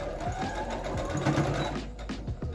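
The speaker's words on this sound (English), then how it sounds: "And then I'll just stitch it down" A sewing machine stitches fabric for a simple summer top, its needle whirring in a steady, fast, close-up chatter that runs without a break and without speech.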